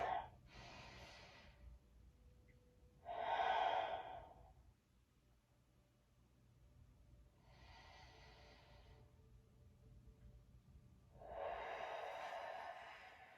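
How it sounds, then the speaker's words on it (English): Several deep breaths drawn in through the nose and let out through the mouth in a stretch-and-flex exercise session, audible as soft, airy sighing exhalations in separate bursts with quiet pauses between them. "We want to inhale deeply through the nose and out through the mouth."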